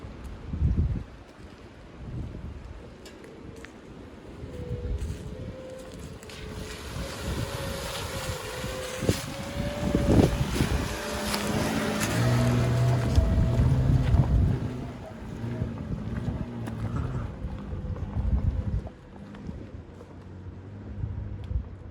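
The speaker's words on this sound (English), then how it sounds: "we're gonna start through the mud here and then go up the incline" Volvo XC90 SUV crawling through mud in woodland and starting up an incline, a low steady engine drone with rising strain and wind buffeting the microphone, no talk.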